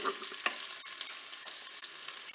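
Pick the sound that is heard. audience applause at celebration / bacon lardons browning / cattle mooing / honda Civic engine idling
bacon lardons browning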